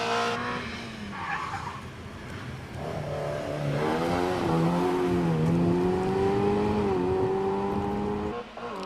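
An MGB GT race car accelerating hard up the Prescott speed hill climb, its engine note climbing and shifting through gears, loud and sustained with brief tyre squeal.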